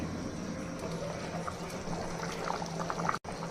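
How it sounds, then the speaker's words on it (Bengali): Water heating in a covered pot on a stove, a steady broadband bubbling and rushing hiss with a low hum, continuous and moderately close, ending in a brief dropout. "দেখুন বলক চলে এসেছে।"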